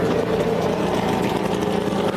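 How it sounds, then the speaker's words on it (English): Ricky Stenhouse Jr.'s number 17 Ford EcoBoost NASCAR race car engine running in the garage, giving a loud, steady, droning roar close by with no clear pauses. "That engine revving up."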